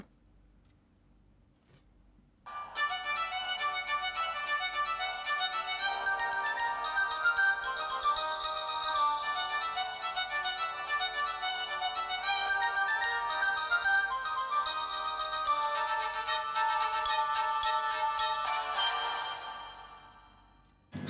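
A ringtone plays through the small loudspeaker of a Nokia Lumia 1020 phone sitting a foot from a lav mic, a bright, steady melodic tone starting after a short pause and running continuously for about eighteen seconds before fading out.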